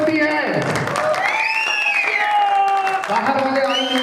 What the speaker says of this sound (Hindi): जोरदार तालियां चाहूंगा दोस्तों, जोरदार तालियां आप लोगों के लिए